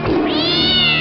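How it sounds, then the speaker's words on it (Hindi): A cat gives a single loud, close meow, rising then drawn out, with no talk over it. "बिल्लियों छोड़ो, बंद करो नोचना।"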